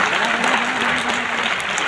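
An audience claps together at a gathering, a loud, continuous wash of applause with a faint low hum beneath it, lasting the whole short moment.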